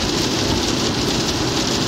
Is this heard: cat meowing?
no